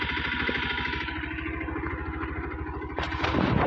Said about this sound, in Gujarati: હવે બાઇક ચાલુ કરી છે